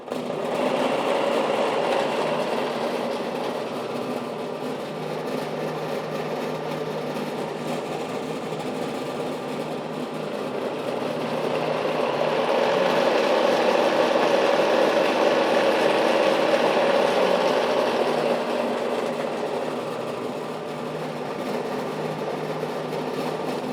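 A Shopsmith Power Station running with a vibrating belt, a steady droning mechanical hum and whir that rises and swells slightly in the middle, close and constant with no talk.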